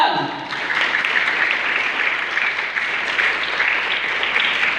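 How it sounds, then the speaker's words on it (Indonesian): Sustained applause from a graduation ceremony audience in an auditorium in Bondowoso, a dense steady wash of many hands clapping at even loudness throughout. "Tepuk tangan untuk Al-Quran."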